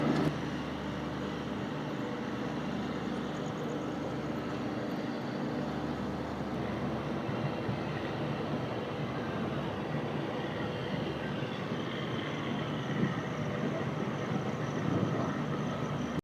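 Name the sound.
Bhopal Express train departing Bhilwara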